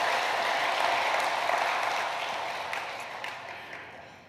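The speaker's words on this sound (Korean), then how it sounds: "우리 하나님께 감사와 영광의 박수를 올려드리도록 하겠습니다" A church congregation applauding during a Sunday service in Daegu, a broad, steady patter of many hands that swells early and then gradually fades.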